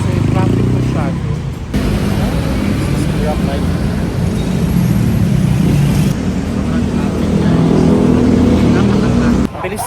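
Heavy road traffic on a Bangkok street, a dense steady roar of car and motorbike engines close by, with voices talking over the continuous din throughout.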